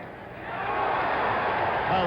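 A crowd at a boxing match between Muhammad Ali and Ken Norton reacts to a blow, its broad murmur swelling into a sustained roar.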